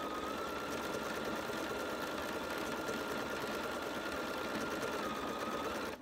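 A Bernina sewing machine fitted with Foot 22 runs steadily, stitching rows in a continuous, even mechanical whir that stays loud and unbroken from start to finish with no talking.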